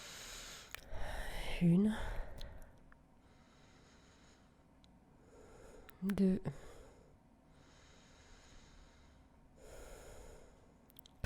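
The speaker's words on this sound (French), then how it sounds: "tu prends quelques respirations tranquilles, t'en prends 3 par exemple" A voice guides a relaxation exercise and counts aloud between slow, calm breaths. Two clear, drawn-out inhales and exhales sit close to the microphone, with quiet pauses around them.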